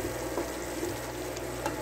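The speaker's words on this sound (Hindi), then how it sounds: "कीमा और प्याज मिक्स हो रहे हैं और साथ भूनी जा रहे हैं।" Minced keema and onions frying together in a pan, a steady close sizzle with light scraping stirs running throughout.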